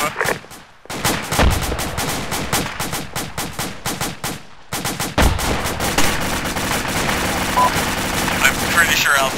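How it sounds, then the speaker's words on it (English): Sustained gunfire in the military video game Shack Tactical – Gothic Line: loud, rapid automatic bursts of close shots, a brief pause, then dense continuous firing with overlapping reports. "I'm pretty sure Alpha's firing on us."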